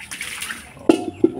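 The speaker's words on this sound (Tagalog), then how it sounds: "Hugas, kaldero." Water splashes and sloshes briefly while a metal cooking pot is rinsed with deep well water, with a few sharp clanks near the end.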